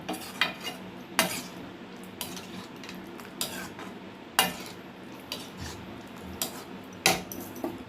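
A utensil scrapes and knocks against a metal pot of chana masala curry in a slow, irregular stirring rhythm, with a faint bubbling background and no voices.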